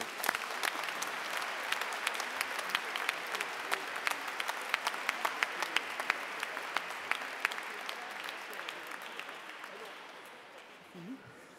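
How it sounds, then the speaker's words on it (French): Warm applause from a church congregation after Mass, dense clapping that holds steady and then gradually fades away. "Applaudissez pour vous-même."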